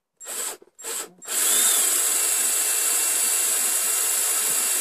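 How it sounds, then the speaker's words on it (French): A power drill with a bit bores into the wooden face of a Dadant beehive, starting with two short whirring bursts and then running in one loud, continuous grinding whine close by. "Donc là avec une mèche on va venir creuser la face."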